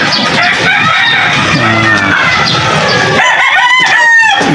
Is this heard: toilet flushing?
no